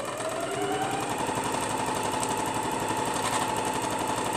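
A sewing machine stitches a quilted round bag with a rapid, even mechanical chatter that runs loud and continuous throughout, close up and without speech.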